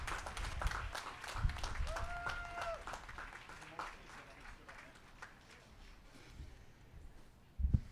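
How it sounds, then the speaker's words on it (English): Steady applause from a crowd at a high school graduation ceremony, continuous and moderately distant, with a few louder bumps near the end. "Please applaud these wonderful students."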